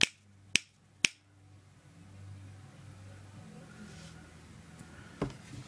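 Two sharp finger snaps in quick succession at the start, then a quiet hum of background noise and one fainter click near the end.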